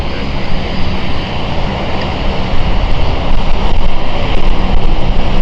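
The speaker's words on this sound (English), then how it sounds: "So the Dublin flight is just waiting here for Lux Air to pass them on the taxiway" An airliner's engines roar steadily and loudly as it taxis at London City Airport, a continuous broadband drone that swells slightly toward the end, with no voices.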